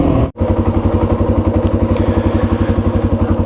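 Yamaha TW200 dual sport motorcycle engine running under steady throttle while riding, a loud, even thumping single-cylinder pulse close by after a brief silent dropout at the start.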